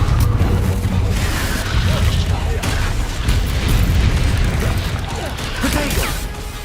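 The Confringo fire spell in Hogwarts Legacy on PC erupts in heavy, rumbling explosive booms that roll on loudly and continuously, layered with crashing debris and game effects.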